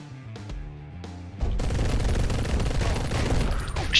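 Rapid shotgun blasts from the top-down action game Mr. Shifty, a dense, loud burst of gunfire that starts partway in after quieter music-like tones and continues steadily to the end.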